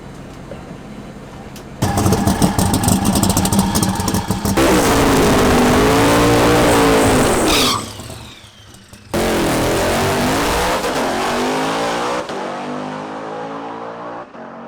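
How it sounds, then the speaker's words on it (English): A funny car built up from a go-kart makes a drag racing pass, its engine roaring loudly at full throttle with rising revs, a brief drop and shift, then a second hard pull that fades away. "They're going to make a few passes and see which way is quicker and what works"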